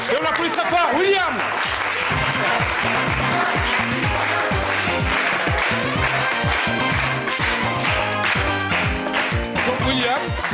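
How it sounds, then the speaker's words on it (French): A television talent-show studio audience applauds candidate William, steady clapping running throughout under loud backing music with a beat and a voice over the top. "Et on l'applaudit très fort, William."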